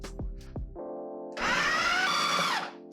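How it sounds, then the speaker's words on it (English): A blender whirs loudly for over a second, blending chickpeas into hummus, preceded by a steady lower motor hum and a couple of short thumps; the grinding is close and dense, then cuts off. "Blend, blend, blend."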